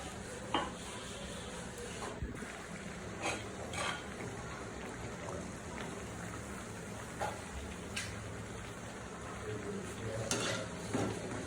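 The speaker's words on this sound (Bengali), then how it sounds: "এখন আমি পিঠাগুলো ভেজে নেব।" Semolina pitha fry in oil in a wok, a steady low sizzle broken by repeated clinks and scrapes of a utensil turning them, heard up close with no voices.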